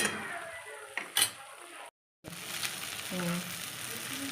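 Masala with Kashmiri chillies and chicken spices frying in a pan: a bright sizzle with a few clanks of a spoon, cut by a short silent gap before the sizzle returns with more scraping.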